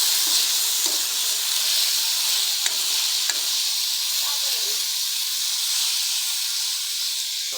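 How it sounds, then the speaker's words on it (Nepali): Chicken sizzles steadily in a hot pan with a constant bright hiss throughout, while a few soft scrapes and clinks from stirring cut in briefly. "चिकन चाहिँ गर्ने, अनि थोरै चाहिँ यसलाई चलाउनु पर्छ है।"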